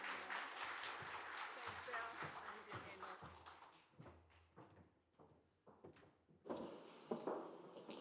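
An audience at a health service's annual general meeting applauds, dense clapping at first that thins out, then a brief renewed burst, heard from a distance in a hall.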